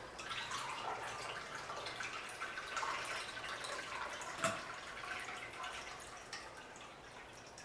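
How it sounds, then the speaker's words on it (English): A margarita is strained from the shaker into a salt-rimmed glass, making a steady, close trickling and splashing pour that runs evenly with a brief louder splash partway through. "I strain it straight into this glass."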